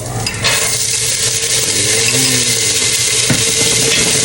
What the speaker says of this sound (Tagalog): Ilalagay ko na po yung ating munggo.